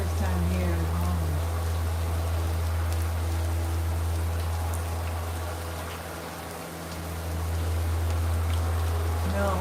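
Steady rain falls continuously for nearly ten seconds, a dense, even patter on a surface with a low rumbling undertone and a brief dip in level partway through.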